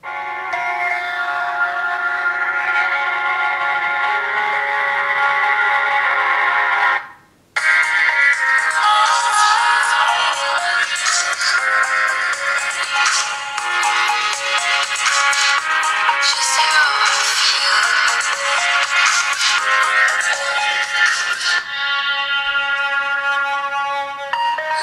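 Phone ringtone played through the loudspeaker of a Kingzone N5 smartphone, a loud electronic melody of steady tones that runs for about 25 seconds, with one brief cut partway through and no talk.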